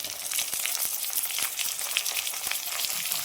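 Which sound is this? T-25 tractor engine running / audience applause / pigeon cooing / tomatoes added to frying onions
tomatoes added to frying onions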